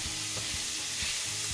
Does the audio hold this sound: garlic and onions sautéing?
yes